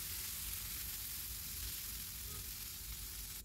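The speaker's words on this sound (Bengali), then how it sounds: "এখন আমি 3 থেকে 4 মিনিট এটাকে একটু নেড়ে চেড়ে নেব।" Indian plums (ber) fry in oil with panch phoron five-spice for a sweet pickle, producing a soft, steady, unbroken sizzle at low volume with only faint hints of stirring.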